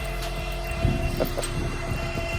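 A steady, loud mechanical whine and hum with a high-pitched scream over it from crypto mining rigs and their fans running continuously, with no voices.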